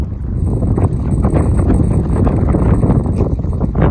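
A strong crosswind buffets the microphone outdoors at a football field, producing a loud, continuous low rumble with gusty swells for the whole stretch and no speech.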